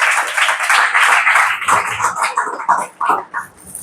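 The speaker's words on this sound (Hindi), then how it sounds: "तो पहले तो उनका जोरदार तालियों से स्वागत करें" Audience applause welcoming experts at an assistive technology awareness workshop, a close, loud patter of hands clapping that thins out and becomes more scattered toward the end.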